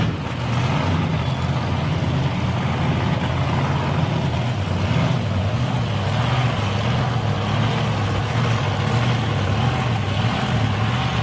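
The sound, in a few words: supercharged drag racing cars starting up and spinning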